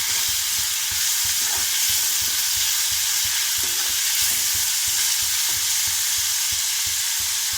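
Chopped onion fries in a pan for egg curry, a steady dense sizzle with rhythmic stirring scrapes throughout, close and fairly loud with no talking.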